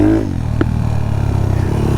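A trail motorcycle engine runs steadily up close, a low rumbling idle with faint clatter that holds evenly throughout, after a brief higher rev at the start.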